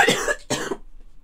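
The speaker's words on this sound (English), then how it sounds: "That was a bad cough." A person coughs twice in quick succession, the second burst shorter, close and loud, then silence.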